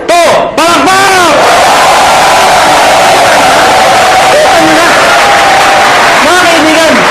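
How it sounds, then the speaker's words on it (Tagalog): A crowd at a business seminar claps and cheers loudly after a counted cue, with shouted whoops and voices over a dense, sustained wall of applause. "1, 2, palakpak!"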